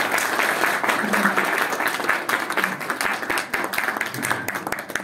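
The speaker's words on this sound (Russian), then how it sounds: "Аплодисменты ему." Audience applause at a graduates' event of an international management school in Kharkiv, steady dense clapping filling the clip at close range with some voices mixed in.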